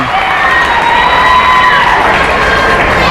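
Loud crowd cheers and shouts fill a gym at a boys' high school basketball game, a steady dense roar of voices with whoops and a few whistles throughout.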